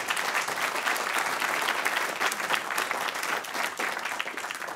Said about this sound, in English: Yeah, go ahead and applaud.